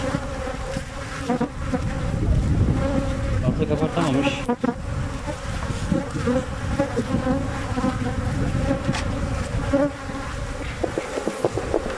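Honey bees hum and buzz densely around an open beehive during an inspection for black seed honey, a close, continuous swarm drone while someone speaks over it at moments.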